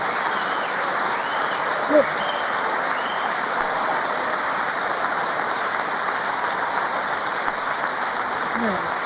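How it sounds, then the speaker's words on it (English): A large audience applauds during a presidential address to Congress, a steady, dense wash of clapping with a crowd murmur beneath it, holding at an even level throughout with no pauses. "All right, everybody stand up and clap."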